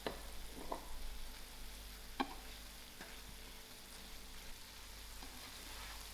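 Mixed vegetables frying in a pan alongside cooked tomatoes, a soft steady sizzle with a few faint stirring clicks and scrapes, close and fairly quiet, no voices.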